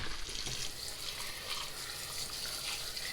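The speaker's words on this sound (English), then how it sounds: "So now we're filling this up with cold water" A kitchen faucet runs cold water into a pot for cooling boiled beets, a steady close hiss and splash of filling water without pause or talk.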